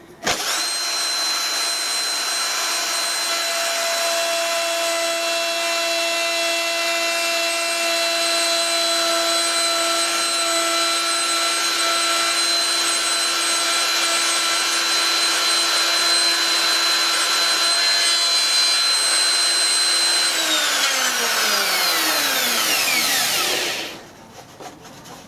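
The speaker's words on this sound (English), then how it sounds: "This is only a little router, but it's got a kick in it." A small router cuts out a classic car dash panel, a loud steady high-pitched whine with strong tonal harmonics held for about twenty seconds before the motor spins down and stops near the end.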